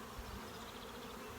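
Honeybees buzzing at a hive during a hive split, a dense, steady, close swarm hum with no voices.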